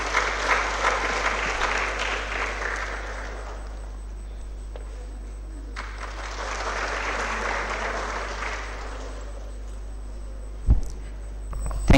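An audience at a medical college orientation ceremony gives two swells of warm applause during a felicitation, each rising and fading over a few seconds, fairly distant in a large hall.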